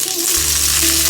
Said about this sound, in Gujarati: ઘી ગરમ થયું છે, થોડીક રાઈ ફોડી લઈએ.